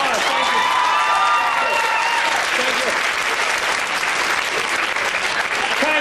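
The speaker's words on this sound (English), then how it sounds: "Let's give these two gentlemen a big round of applause." Applause from a live audience at a comedy juggling show, dense and steady clapping filling the room for the whole stretch, with a few faint whistle-like tones and a voice briefly over it near the start.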